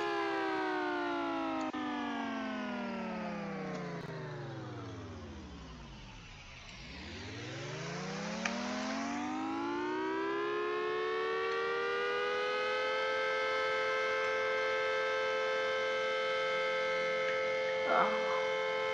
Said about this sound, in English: this Siren does 3 blasts